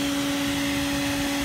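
A vacuum cleaner run in reverse to blow air into a kayak, powered from a van's outlets, gives a steady, even motor drone with a constant whine and no pauses.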